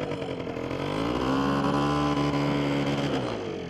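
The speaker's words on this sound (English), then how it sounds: "only 90 cc's of two-stroke awesomeness" A 90cc two-stroke engine runs steadily at close range, its rising and falling harmonic buzz holding loud and continuous with no talk over it.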